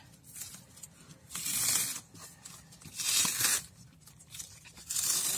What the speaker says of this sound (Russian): Так, вот мы снимаем скотч.